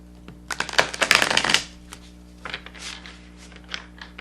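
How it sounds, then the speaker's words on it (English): Tarot cards being shuffled by hand up close: a dense flurry of riffling card clicks in the first part, then lighter, scattered shuffling sounds, with no talking. "let's just shuffle one time"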